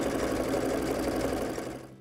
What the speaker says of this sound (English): Sew a zigzag stitch along the seam allowances